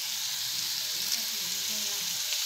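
Chicken frying in a pan over a chana dal curry base, giving a steady close sizzle with faint stirring scrapes throughout and no talking.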